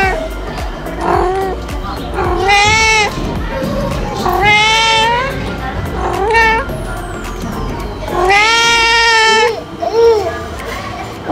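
Cats at a park zoo meow loudly and repeatedly, drawn-out wailing calls in several bursts, heard close over background chatter from visitors.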